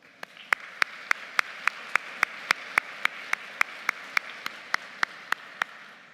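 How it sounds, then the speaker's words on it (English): Applause rises from a convocation audience for graduates' families and friends, heard as a sparse, steady run of individual claps at an even rhythm, moderately near and fairly quiet, with no talking over it. "let's give them a round of applause"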